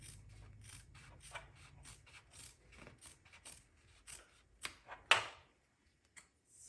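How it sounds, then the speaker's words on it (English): Scissors trim sewn fabric close to the stitching of a clutch bag, producing a faint series of soft rasping snips at an irregular pace, ending in one sharper, louder cut. "go ahead and trim this off about a 1/4 inch away from your stitching"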